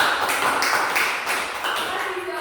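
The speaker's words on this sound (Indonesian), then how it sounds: "Kita kasih tepuk tangan dulu." A classroom of students gives a round of applause during a microteaching practice lesson, with dense overlapping claps holding steady from start to end, close and fairly loud, and some voices mixed in.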